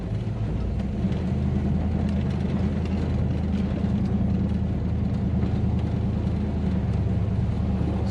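A 1969 Buick Electra 225 convertible drives with the top down, its engine a low, steady rumble and whir over constant road and wind noise, with no break for the whole stretch.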